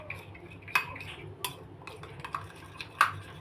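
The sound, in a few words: stirring homemade pizza sauce in a bowl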